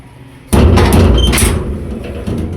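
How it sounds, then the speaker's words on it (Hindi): A door at a village home or shop is opened with one abrupt, loud knock-like thud, followed by a sustained rumble that slowly fades. "दरवाज़ा खोल दो, गर्मी लग गई बाहर।"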